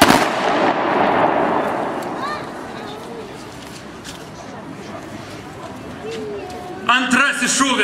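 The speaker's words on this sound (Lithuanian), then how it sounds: "Antrasis šūvis laikinosios sostinės šimtmečiui." A ceremonial cannon salute fired in Kaunas for Lithuanian Independence Day: one loud boom opens, then rolls away and decays over several seconds, followed by faint ambient outdoor sounds and a brief burst of activity near the end.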